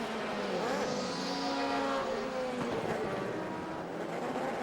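GT3 class race cars at the SCCA National Championship Runoffs work through traffic, a steady layered drone of several engines at moderate distance, rising and falling slightly as cars pass, with no talk over it.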